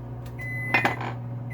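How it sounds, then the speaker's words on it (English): A microwave oven hums steadily while heating green beans in a home kitchen, its low drone running throughout with a brief clatter and a faint tone near the middle. "I got some green beans in the microwave"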